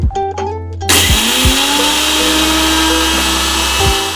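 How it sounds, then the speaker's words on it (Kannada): Electric mixer grinder pulverising dried red chillies into flakes: a few short stuttering pulses, then a loud sustained high-pitched motor whir with a rattling, gritty texture and slight pitch dips, running close and steady with no voices. "ಅದಕ್ಕೆ ನಾನು ಒಣಮೆಣ್ಸಿನ್ಕಾಯಿನ ಮಿಕ್ಸಿಯಲ್ಲಿ ಹಾಕಿ ರುಬ್ತಾ ಇದ್ದೀನಿ."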